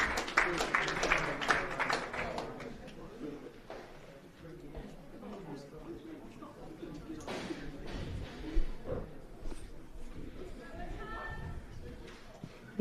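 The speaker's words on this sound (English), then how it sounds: "I actually couldn't hear Megan over the sound of the cheering" A crowd at a secondary schools weightlifting championship cheers and applauds, loudest in a burst at the start and then settling into a steady murmur of clapping and voices with a few sharper shouts.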